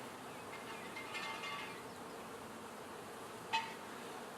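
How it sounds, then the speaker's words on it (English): Bees buzzing around a beehive outdoors, a faint steady hum with a brief louder buzz as one flies close by near the end. "Ooh, I just saw a bee land."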